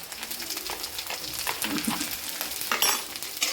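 Green chillies sautéing with onions in a pan for spicy tikhat bhat, a steady sizzle with stirring scrapes and a few clinks of a spoon against the pan.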